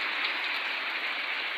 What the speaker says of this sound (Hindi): बहुत तेज़ स्पीड में बारिश भी पड़ रही है।